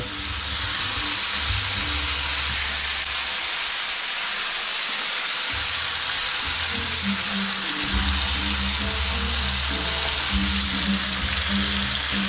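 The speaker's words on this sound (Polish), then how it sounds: "Zobaczcie jak one przepięknie skwierczą na tej oliwie." Tomatoes sizzle in hot olive oil in a frying pan, a loud, steady crackling hiss that runs continuously throughout with no talking.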